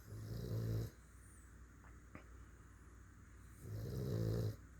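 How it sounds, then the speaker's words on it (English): Two sleeping dogs snore in two long, rumbling breaths separated by a quiet pause, close and soft, with no voices. "They're snoring. Hear them?"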